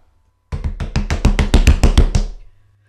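Knocking on a door in a Sherlock Holmes audio drama: a rapid run of about ten firm knocks, close and loud, with no voices over them.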